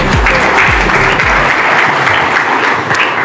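Audience applauding at a women authors' award ceremony, a steady, loud wash of clapping filling the room throughout, with a few low thumps near the start.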